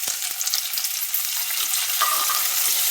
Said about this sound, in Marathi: म्हणून आधी पालक घातली त्यामध्ये.